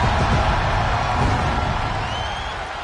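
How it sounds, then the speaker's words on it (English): Loud crowd cheering for Shaq in a WWE wrestling video game, a dense roar of an arena audience that holds steady and then eases slightly toward the end. "The entire WWE Universe is cheering on Shaq, including yours truly."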